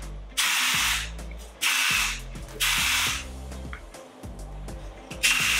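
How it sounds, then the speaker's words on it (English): Verb Light Hold Weightless Grit Volume Spray texture spray hisses from an aerosol can onto a pixie haircut in several short, close bursts separated by brief pauses. "This is Light Hold Weightless Grit Volume Spray Texture Spray."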